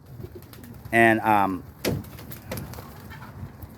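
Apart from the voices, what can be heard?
young pigeons cooing near the trap on the kit box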